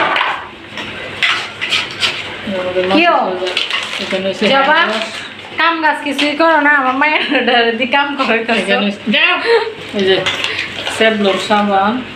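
Rui fish heads cooking in a pot, with clattering pots, pans and metal utensils knocking close by while someone talks over the kitchen noise almost throughout.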